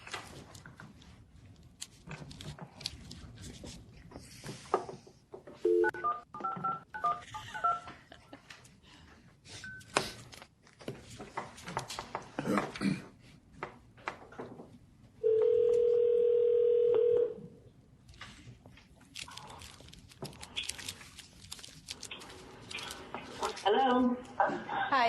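Telephone tones sound while a caller joins a conference phone call during a meeting, with a sustained steady dial tone in the middle, short beeps, and people talking before and after.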